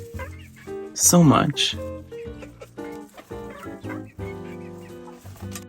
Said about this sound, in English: And other random chickens, whatever they are.